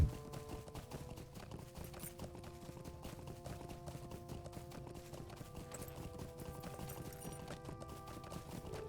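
Horse hooves clip-clop at a steady, even gait while riding a mount in the video game LOTRO, quiet and continuous for the whole stretch with a faint background hum and no talk.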